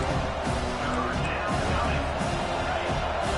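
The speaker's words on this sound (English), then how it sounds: "Here comes his home crowd as the defense tries to get off the field on 3rd down" Home crowd noise from a college football video game, a dense, steady roar of fans building on a defensive third down, with a commentator's voice over it.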